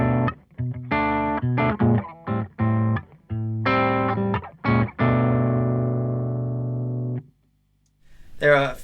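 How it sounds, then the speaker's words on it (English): Electric guitar played through a Boss ME-70 preamp set to a tweed amp model, a few separate chords and riffs, each with a short sustain, ending in one long chord that rings out before a brief noise. "I'm going to switch on the preamp, which I have set to tweed, so it will make my normal amp sound like a tweed amp"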